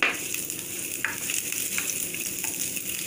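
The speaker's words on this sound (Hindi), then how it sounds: "इसको हल्का सा हम फ्राई कर लेंगे।" Vegetables frying in hot oil for a lemon coriander soup, a steady close sizzle with occasional soft stirring sounds and no talking.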